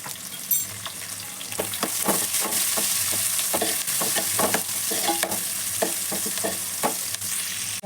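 Cumin, mustard seeds, curry leaves, Byadgi chillies and onion frying in hot oil, a loud continuous sizzle broken by repeated clattering stirs and scrapes of a spoon in the pan, with no voices.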